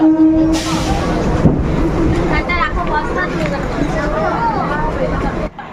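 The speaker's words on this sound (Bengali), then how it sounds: "দেখো ট্রেনটাও ছেড়ে দিয়েছে" A commuter train running between Bidhannagar and Dum Dum Junction rumbles steadily from inside a carriage, with passengers talking and chattering over the rolling noise.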